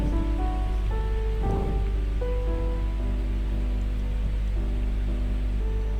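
Rain falls steadily at a campground at Citamiang, Puncak, Bogor, beside a stream running over large boulders, a constant broadband hiss under a low sustained tonal drone, with no voices.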